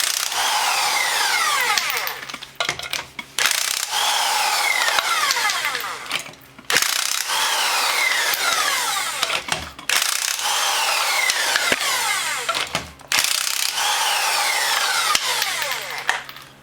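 An old Skil power tool running in reverse on car brakes gives bursts of high, grinding whir lasting a few seconds each, separated by short pauses, close and loud.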